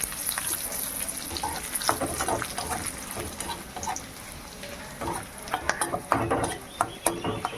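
Ginger paste, whole garam masala, dry chillies and bay leaves tempered in hot ghee while making khichuri, with steady close sizzling and irregular scraping stirs that grow busier toward the end.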